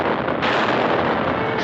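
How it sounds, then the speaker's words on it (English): Warship guns firing in a 1942 Disney wartime film, a loud, continuous roar of blasting that swells briefly near the start and holds steady throughout. "Ships protected by the blasting fire of men of war."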